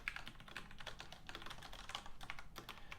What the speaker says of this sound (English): It's just a lot of typing, like so.